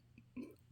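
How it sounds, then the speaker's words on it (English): A single short burp from a person, brief and fairly quiet, standing alone against faint background noise. "I'm burping."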